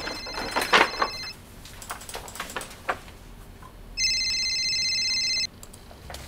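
A telephone rings with one steady electronic ring lasting over a second, heard after scattered clicks and faint room noise.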